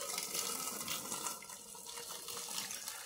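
Starchy water poured off freshly cooked rice in a home kitchen, a steady close rushing splash of draining liquid running without pause, with no talking.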